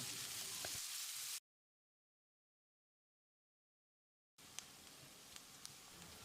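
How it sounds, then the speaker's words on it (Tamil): Steady sizzling of onions frying in a pan, interrupted by a few seconds of silence, then the hiss resumes with small pops. "வெங்காயத்தை செவந்து வர்ற அளவுக்கு வதக்கிடலாம்."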